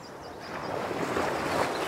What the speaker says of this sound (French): De fortes vagues s'agitaient le long du rivage.